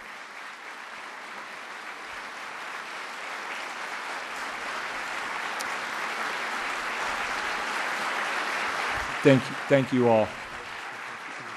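An audience at a U.S. Army birthday and re-enlistment ceremony applauds the re-enlisting soldiers, steady applause that swells gradually, with brief speech near the end.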